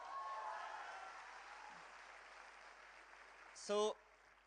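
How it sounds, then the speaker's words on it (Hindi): Audience applause at a business success workshop in Chandigarh: a steady wash of clapping that slowly thins out and then ends with a short, sharp tonal burst. "एक बार चंडीगढ़ के लिए तालियां।"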